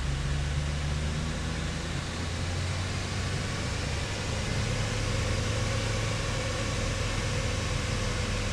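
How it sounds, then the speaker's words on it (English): Steady broadband hiss and low hum from the air conditioner running in a Pajero Mini, constant and unchanging throughout with no voices. "now we'll turn on the aircon"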